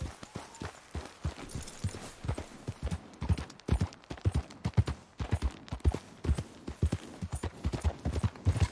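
A ridden horse clip-clops along a stream in a steady, close rhythm of hoofbeats, each footfall distinct and fairly loud.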